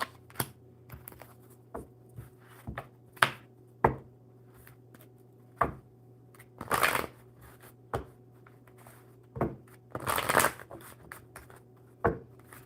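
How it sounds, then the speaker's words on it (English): Playing cards shuffled during a coffee-themed card session, giving a series of sharp, close flicks and taps with two longer riffling bursts, set against a steady low room hum and no talk. "Let's get these cards shuffled for Dark Black"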